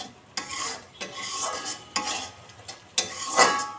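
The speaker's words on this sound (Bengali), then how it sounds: "এখন আমি এটা ভালোভাবে কষায় নেব।" Spice masala being stirred and fried in a pan, a utensil scraping in repeated strokes roughly once a second over a steady close sizzle, with no voices.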